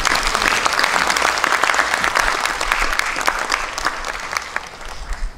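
Dense, steady applause from a church congregation at Promise Church fills the room for several seconds, close and loud, with many hands clapping at once and no voices rising above it.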